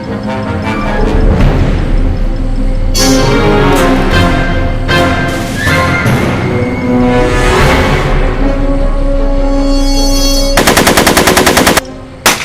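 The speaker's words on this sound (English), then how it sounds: "Are you shooting at me?" Heavy automatic gunfire in a film scene, loud and close, with long rapid bursts rattling over a dense background and a final sharp volley before it cuts off.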